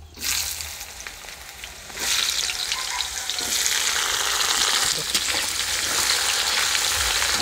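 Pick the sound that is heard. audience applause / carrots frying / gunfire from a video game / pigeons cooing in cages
carrots frying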